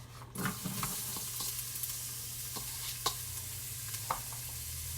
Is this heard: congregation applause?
no